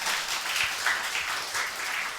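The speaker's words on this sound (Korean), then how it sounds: "크게 박수해 주시기 바랍니다." A church congregation applauding after a baptism, a dense, steady wash of many hands clapping together at moderate loudness, no voices.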